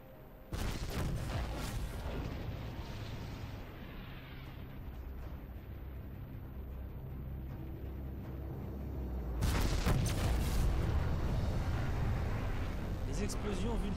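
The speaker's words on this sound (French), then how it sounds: "Explosion vu de l'extérieur, c'est pas mal." Heavy explosions in a multiplayer game, with a deep booming blast at the start, a long rumbling tail, and a second louder burst of debris and rumble later, heard over people talking.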